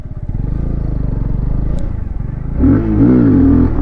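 A 2020 Kawasaki Z125 Pro's small engine idles with a loud, close, throbbing putter, then revs up sharply as a burnout is attempted on a slipping, dirty rear tire.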